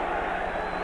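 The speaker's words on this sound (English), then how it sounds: "Now the chant of Cooney" Boxing crowd of about 10,000 at Nassau Coliseum during a heavyweight bout, a dense steady roar of voices chanting the name Cooney, loud and continuous with no break.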